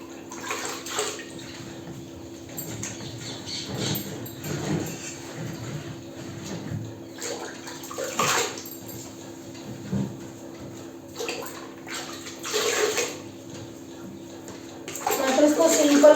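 An empty washing machine runs with a little cleaning liquid to clean its tub, giving a low steady hum and intermittent sloshing water, while someone talks over it.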